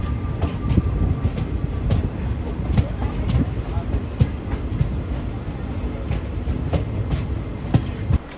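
Shalimar Kurla Express with old ICF coaches pulling into a station, giving a steady rumble with repeated clickety-clack wheel beats over the rail joints, heard close from onboard throughout.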